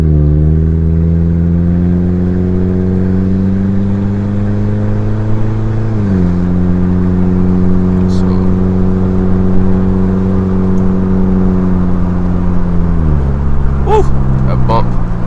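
A Honda Civic with its resonator and muffler removed accelerates along an empty road, its raspy exhaust note climbing in pitch through gear pulls, with brief drops between shifts, loud and close.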